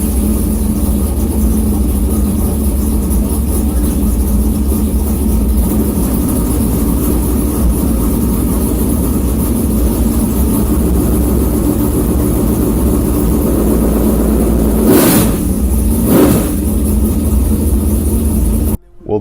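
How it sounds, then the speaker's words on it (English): Superstock dirt race car with a 350 engine bored forty over, running loud and steady throughout with a deep low rumble, a couple of brief sharp bursts near the end before it cuts off. "The motor in the car is a 350 40 over"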